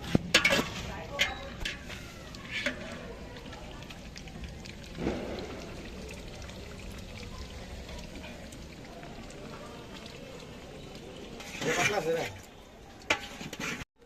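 Chicken pieces frying in a pot with ginger, garlic and onion for shahi chicken polao, a steady sizzle with intermittent bursts of stirring and scraping, voices faint in the background.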